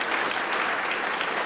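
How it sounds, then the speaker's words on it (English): Steady, dense audience applause at a memorial gathering, sustained and moderately loud throughout with no pauses. "don't want to get nervous and skip Mom's applause"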